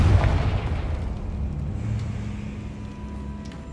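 A Confringo blasting spell in Hogwarts Legacy goes off as a deep, heavy boom right at the start, then its low rumble slowly fades away.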